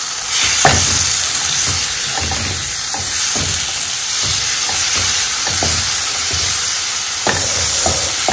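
Green pepper frying with tomatoes in a pan, a loud continuous hissing sizzle with regular spoon scrapes and taps as it is stirred, close and alone without talk.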